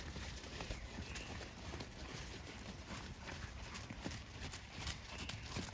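Horse hooves clip-clop steadily over a riding arena during a proficiency clinic exercise, a continuous rhythmic beat of footfalls set against broad background noise.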